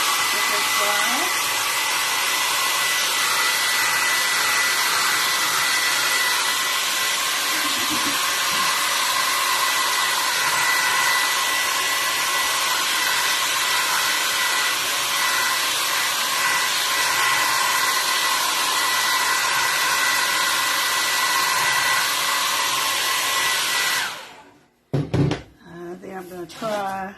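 A hair dryer blowing steadily and loudly up close to dry paint on a Santa craft, running continuously for about 24 seconds before switching off, followed by a few handling knocks.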